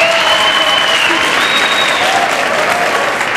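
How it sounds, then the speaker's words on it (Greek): A crowd gathered in a town square in Ioannina claps steadily and loudly for a woman at a folk dance event, the applause dense and continuous with faint whistles over it. "Ένα χειροκρότημα για την κυρία, παρακαλώ."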